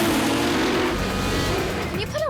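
A tuned street car's engine runs with a steady low rumble, close and continuous, under voices and other noise.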